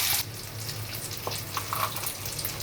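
A soft, steady sizzle of batter frying in hot oil continues at a low level, with a few faint clinks and splashy touches. No one speaks.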